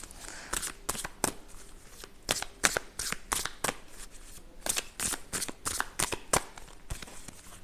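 Oracle cards being shuffled and drawn for a reading, a quick run of crisp riffling bursts and slaps, close and fairly quiet, with brief pauses between shuffles and no talking.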